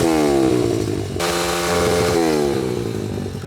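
A motocross bike engine revs hard with a football stuck on the exhaust, a loud buzzing roar close by that dips briefly and then climbs again.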